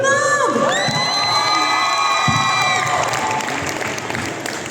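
A fan convention crowd in Dijon cheers, shrieks and applauds loudly as actors arrive, a dense sustained roar with high excited voices that thins slightly toward the end.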